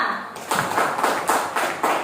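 Several short bursts of group applause in a classroom, claps rising and falling in waves over a couple of seconds.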